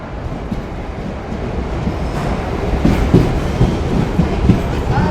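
Dhanadhanya Express on the Lalgola line rolling into Murshidabad Junction: a steady, loud rumble of wheels on rails with rhythmic clickety-clack building slightly as the train approaches, no talking.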